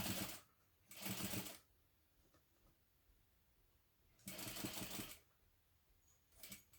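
A domestic sewing machine stitches a zipper seam on a hobo bag in loud, short bursts of rapid whirring, with pauses between runs and a brief final burst at the end.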